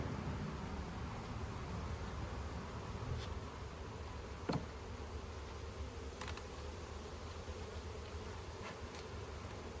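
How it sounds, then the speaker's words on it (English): Honey bees hum steadily in an opened hive, a soft continuous drone close by with a few brief louder passes of individual bees. "there's quite a lot of bees in here"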